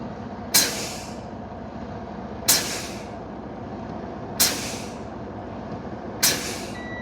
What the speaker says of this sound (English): Now I'm going to dump the air pressure until the low air pressure warning system is activated